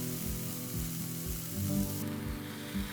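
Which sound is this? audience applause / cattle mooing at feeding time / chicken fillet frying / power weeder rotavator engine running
chicken fillet frying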